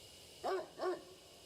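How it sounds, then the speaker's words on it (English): A dog in the horror adventure video game Death Mark gives two short, soft barks in quick succession, faint and somewhat distant against a quiet backdrop. "So we hear a dog."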